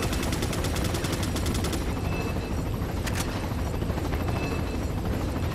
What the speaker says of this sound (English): Hearing him shoot at nothing because I knew there was nothing left